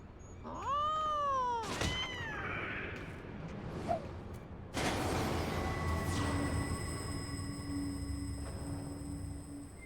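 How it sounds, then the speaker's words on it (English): Cartoonish cat meows and yowls from a kitten character in the video game Final Fantasy XIV: Heavensward, a few rising-falling cries up front, then louder game effects and a sustained tonal hum. "What is metal-making kitten doing?"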